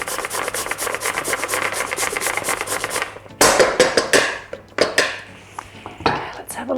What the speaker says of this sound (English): now I'm going to add the beetroot. I'm going to grate it in.